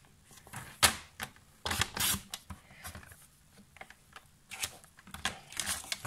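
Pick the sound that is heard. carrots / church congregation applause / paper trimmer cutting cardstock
paper trimmer cutting cardstock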